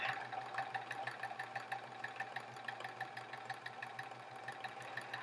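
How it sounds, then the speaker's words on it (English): A sewing machine stitches quilt sashing without pins, a steady, quiet mechanical whir with a regular rapid stitching rhythm that runs continuously, with no voices. "I kind of just sew until where this hand is holding, and then I just kind of readjust and go from there"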